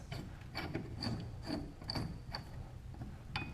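Nut being hand-tightened onto a bolt during an LS engine swap into a Porsche 944, a faint close series of metallic ticks and thread rubs in an irregular rhythm, with no talk.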